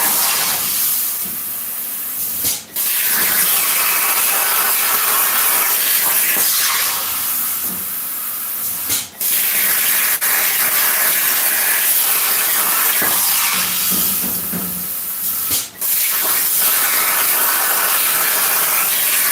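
A Langmuir Crossfire XR CNC plasma cutter slices out a metal sign with a loud, continuous roaring hiss, broken by three brief gaps as the torch stops and restarts, with no voices.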